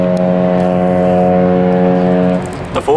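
A cargo ship's horn blasts at sea, a loud, steady, deep tonal blare held for over two seconds before cutting off, leaving engine rumble and wind.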